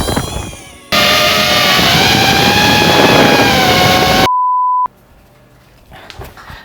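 A multirotor drone with an intermittently faulty motor flies carrying an Infinix Note 30 Pro smartphone, giving a loud, steady whirring buzz that cuts off abruptly into a short electronic beep, then fades to faint background noise.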